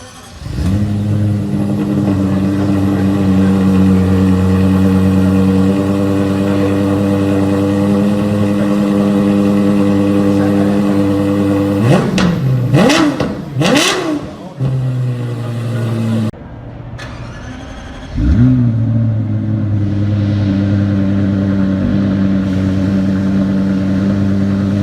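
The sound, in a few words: Lexus LFA 1LR-GUE V10 engine start-up and revving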